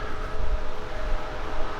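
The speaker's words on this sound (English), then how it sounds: "Hear a lot of trains in the background." A low, steady rumble of distant trains rolling along the tracks in Old Louisville, continuous and fairly loud, with no voices.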